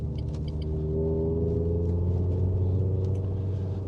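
A Renaultsport Clio 197 F1 R27 engine warming up as the car drives gently, a steady low rumbling hum from the cabin with slight rises in pitch and faint clicks.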